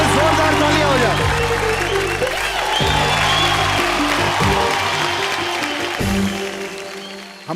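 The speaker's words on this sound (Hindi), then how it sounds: "रवीना जी के लिए जोरदार तालियां हो जाए।" Studio audience at a Hindi comedy show applauds and cheers loudly for several seconds, a dense steady wash of clapping with musical stingers and a host's voice over it, easing slightly toward the end.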